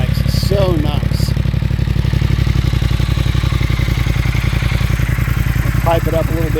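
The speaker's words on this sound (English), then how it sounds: "Love the burble on these bikes, it's so nice." A Triumph Speed Twin 1200 motorcycle idles close by with a loud, even, pulsing burble, its rapid regular thumps continuing throughout while a voice briefly sounds over it.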